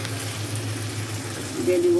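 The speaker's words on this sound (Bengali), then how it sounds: "রসুনটা ভাজা ভাজা হয়ে গেছে। এখন একটু পানি দিয়ে দিব" Garlic frying in a pan of hot oil sizzles steadily, then a louder burst of hissing and bubbling erupts near the end as water is poured in, all close to the microphone.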